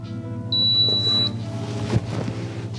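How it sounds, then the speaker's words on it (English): A crock pot timer beeps once in a single steady tone of under a second, with a low appliance hum running underneath and a short clatter just after the beep. "Okay, so look, my timer went off."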